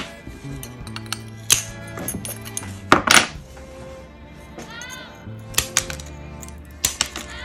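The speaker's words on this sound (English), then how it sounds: "So I'm using the back of the tile nipper now." A tile nipper trims a mosaic tile into a circle, making sharp clicks and brittle snaps close by, with small glassy chinks as fragments drop, several bursts spaced over a few seconds, no talking.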